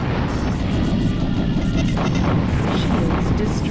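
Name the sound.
ship taking hull damage in video game Colony Wars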